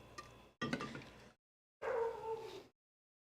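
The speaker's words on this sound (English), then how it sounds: "Also, do we let the puppy dog out?" A puppy dog barks in two short bursts separated by a pause, close and fairly loud, with no talk over it.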